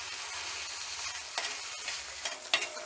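Thick onion, coconut and garlic masala paste with whole spices is stirred into hot sizzling oil for a goat intestine fry, giving a steady close frying hiss with scraping spoon strokes and a few sharper clatters near the end.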